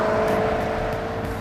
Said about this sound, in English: put it in sport mode so I could hear that exhaust